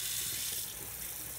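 Hot water pours from a sink tap onto wool fleece being rinsed, a steady close hiss and splash that holds even for the whole short moment.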